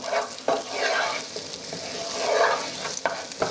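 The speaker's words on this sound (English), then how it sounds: "Give it a good stir." Onions fry in a pan with a bright, continuous sizzle while a utensil stirs them, giving several distinct scraping strokes close up.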